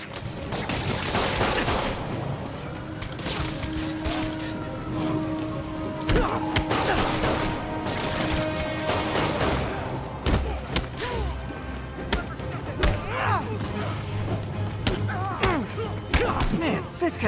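Rapid game gunfire from Spider-Man on PS4, with sharp repeated cracks and thuds in a dense, busy battle mix that includes impacts and crashes, running steadily throughout.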